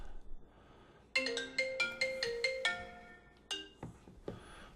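Phone ringtone playing a bright, repeating melodic tune of clear, close tones that stops after a few seconds, with a couple of soft clicks before it.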